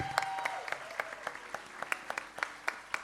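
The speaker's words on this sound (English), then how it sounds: "Please give a huge round of applause" Light applause for sitar and flute musicians at a Kathak dance debut, a few clear, evenly paced claps from a small audience, soft and somewhat distant, with a faint lingering tone early on.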